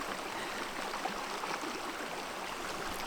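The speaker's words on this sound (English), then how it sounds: "You can hear the tiny waterfall over there" A tiny waterfall in a rocky stream among boulders at a calm camping spot, giving a soft, continuous hiss and trickle that stays faint and steady throughout.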